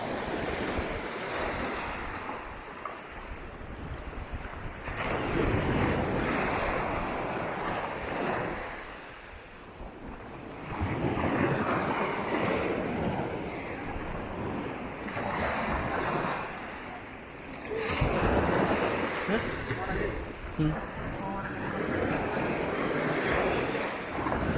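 Sea waves at the beach near Ervadi roll in and break in repeated surges, each swell building and fading over several seconds, with constant wind buffeting the microphone.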